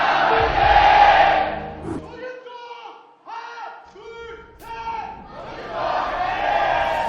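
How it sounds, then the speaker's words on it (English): A studio crowd at a StarCraft esports league match roars and cheers, the noise dropping away mid-clip as chanting voices come through, then swelling back to a loud cheer at the end. "Look at that crowd, man."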